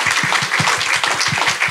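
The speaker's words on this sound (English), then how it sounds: "Round of applause, please." A conference audience applauds at a brain injury panel discussion, a dense, steady burst of many hands clapping together at close range.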